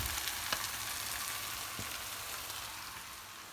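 Meat kavurma fries in a pan with a steady, close hiss and crackle. A couple of faint taps come through over the sizzle.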